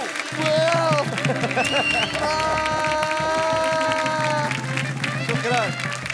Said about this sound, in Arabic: وقفوا عفاكم عطينا تصفيقة حارة.